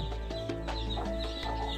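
A village hen clucks softly and steadily while her many young chicks cheep around her, short repeated calls over a constant low background hum, fairly faint and close.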